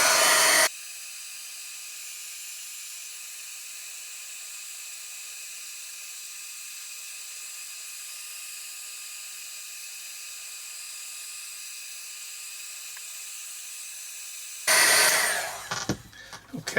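A handheld heat tool blows over a black and gold art journal page, a steady whirring hum with a bright whine that runs nearly unbroken, bracketed by louder rustling bursts at the start and end.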